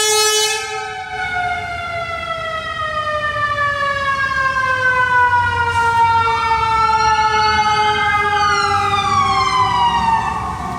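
A loud emergency vehicle siren, from an ambulance, police car or fire truck, passes outside, wailing continuously with rising and falling sweeps over a low traffic rumble throughout.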